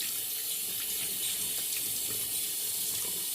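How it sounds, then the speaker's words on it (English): Tap water running steadily into a sink while lather is rinsed off hands during a shave, a continuous close hiss with no break. "Rinse the hands, get all the excess lather off."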